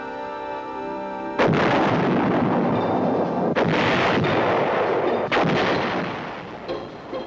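Artillery fire in Vietnam War combat, several heavy booming blasts in succession, each a loud deep thump with rumbling tails, layered over a constant roar of battle.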